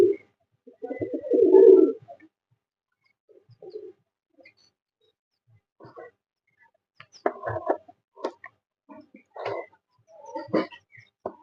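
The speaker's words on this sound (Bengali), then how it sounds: "সবাই সর্ষে খাচ্ছে আর কিছু কবুতর ওখানে আছে" Pigeons coo in short, low, throaty bursts, with one loud close call near the start and softer scattered coos and rustles afterward, set against near silence with no speech.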